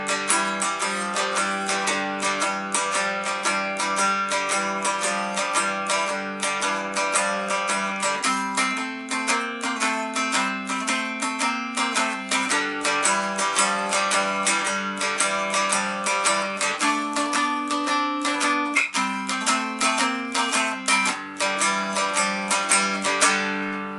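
A cigar box guitar plays a twelve-bar blues in A with steady strummed, bright chords and walking runs, loud and close, sustained throughout with no voices.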